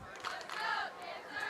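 At a high school football game in Eden, North Carolina, cheerleaders and fans cheer from the sideline, a faint distant crowd of overlapping shouts and chants.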